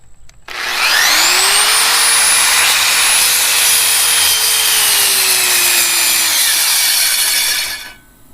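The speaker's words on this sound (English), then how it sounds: "the circular saw seems to be a little too much for this one" A circular saw cutting wood while powered by a Bluetti EB55 portable power station whines loudly at a steady pitch for several seconds, sagging slightly near the end before shutting off.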